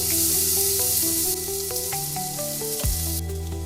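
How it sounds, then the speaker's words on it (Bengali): Chopped onion frying in a little oil for a Bengali prawn coconut milk curry, a steady close sizzle with light clinks of utensils stirring the pan. "এবার পেঁয়াজ কুচিটা দিয়ে দিতে হবে লাল করে।"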